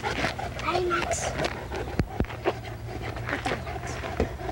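A pet dog named Max pants close by in a home, its quick breathing steady under someone talking and giving commands.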